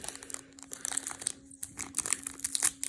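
Crinkling plastic foil of a Pokémon TCG Darkness Ablaze booster pack being handled and torn open up close, with irregular crackles and rustles and a steady low hum underneath, and faint work noises in the background.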